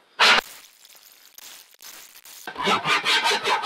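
A hand saw cuts into wood resting on saw horses, with a sharp scrape first, a quieter gap, and then a run of rhythmic rasping strokes that grows louder and closer toward the end.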